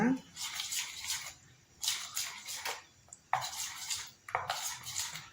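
Hair dye paste stirred in a bowl until smooth, with repeated wet scraping and squelching strokes of a spoon against the bowl that come in bursts with short pauses between them.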